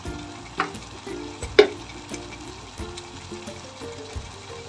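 Tomatoes and masala fry in a pan for crab curry, a steady soft sizzle broken by a couple of sharper spits and clinks as the mixture is stirred.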